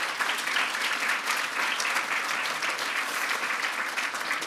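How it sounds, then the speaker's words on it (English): An audience at an awards ceremony applauds its teachers, the honorees among them, with dense, steady clapping that stays loud and even throughout, without speech. "a round of applause for all of our teachers, in particular the ones who have been awarded tonight"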